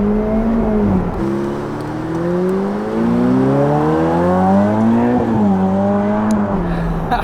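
A sports car accelerates hard, its engine note climbing loud and close, dropping briefly at two gear shifts before rising again in a strong, steady roar.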